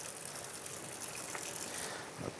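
Soapy water gushes and splashes steadily as a Caberg Flyon motorcycle helmet liner is squeezed out by hand, a continuous close wet rush without talking.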